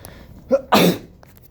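A single sharp sneeze up close, a short intake followed by a loud burst.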